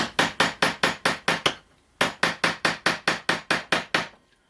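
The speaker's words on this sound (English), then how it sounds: "give it a bit of pressure onto the screwdriver and twist it as well anti-clockwise, and then we can proceed just to tap it" A hammer taps the end of a through-tang screwdriver to free a stuck screw, a crisp metallic knock repeated steadily about seven times, a short pause, then another quick run of around ten even strikes, close and loud.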